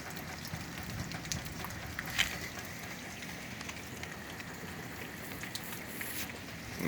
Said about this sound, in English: Yeah, it's still raining, of course,